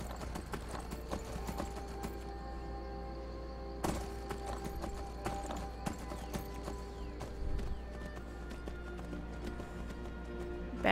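Horse hooves in Skyrim clip-clop in a quick galloping rhythm, with occasional heavier thuds and a sustained low hum beneath, no one speaking.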